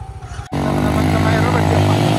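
Motorcycle engine revving hard and loud on a wooden ramp climb, a steady sustained roar with strong harmonic drone starting abruptly after a brief lower idle, close to the listener.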